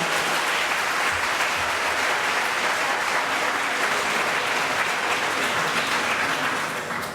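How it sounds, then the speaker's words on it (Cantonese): An audience at a sixth-grade graduation ceremony gives loud, sustained applause, a dense wash of clapping that holds steady throughout and eases slightly at the very end. "咁我哋將個時間咧，俾熱烈嘅掌聲交俾6年級嘅畢業生"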